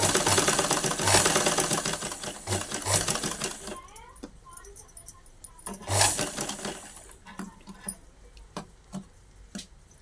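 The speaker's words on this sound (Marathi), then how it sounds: "आणि याच्यावर बघा अशी पट्टी ठेवून घ्यायची आणि शिलाई करून घ्यायची आहे" An electric sewing machine stitches a strip onto a blouse as a loud, fast, steady mechanical rattle for about four seconds, then gives short bursts and clicks amid fabric handling.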